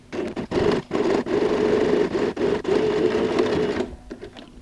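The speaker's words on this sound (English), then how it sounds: "now we're going to go and sew a stitch right next to the pleat" Sewing machine running steadily while edge-stitching a tote bag beside a pleat, a continuous close mechanical whir with a few brief pauses before stopping near the end.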